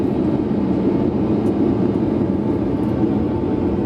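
A light aircraft flies level along the runway, its engine drone a loud, steady, close broadband roar filling the whole stretch without pauses.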